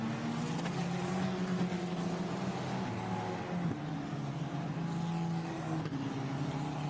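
Formula Renault Eurocup race cars at the Imola circuit, engines droning steadily behind the safety car, a continuous layered hum of several cars with no distinct pass-by.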